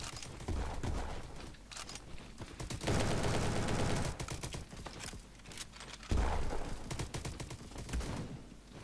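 Bursts of rapid gunfire in the Roblox shooter Bad Business, dense overlapping shots in several loud volleys with short pauses between them, no talking.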